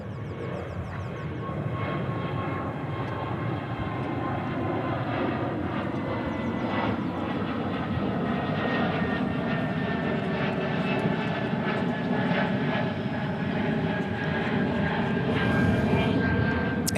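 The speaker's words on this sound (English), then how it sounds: "check out this A220 taking off" An Airbus A220 jet taking off at Dallas Fort Worth airport, a distant, steady engine roar that swells gradually over about seventeen seconds.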